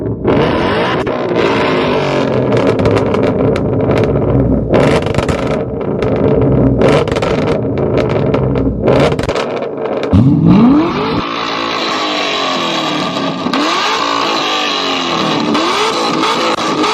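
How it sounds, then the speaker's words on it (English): Nissan 240SX cars rev their aftermarket exhausts hard in an exhaust battle, loud close engine roars with repeated sharp revs, rising pitch sweeps and brief drops between blips. "I had no idea we were doing an exhaust battle."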